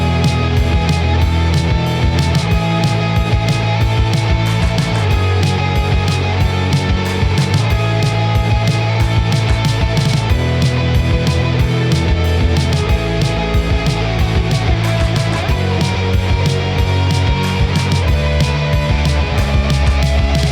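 A new wave post punk beat built in FL Studio, with dense drums, bass and synth layers playing loud and continuous throughout, no voice over it.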